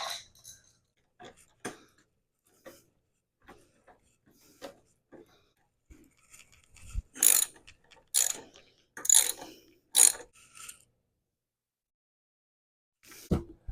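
Ratchet wrench clicking as it loosens bolts on a Honda Ruckus scooter during a fuel filter change: scattered single clicks, then bursts of rapid loud ratcheting, close up, with no talk.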